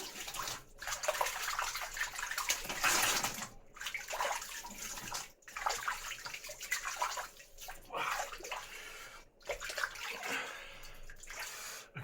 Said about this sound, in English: so let's rinse off